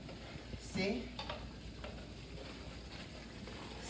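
A large pot of seafood jollof rice in tomato sauce with fresh basil being stirred, a faint scraping stir over a soft steady sizzle, close but quiet, without talking.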